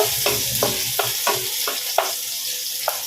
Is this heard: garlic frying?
yes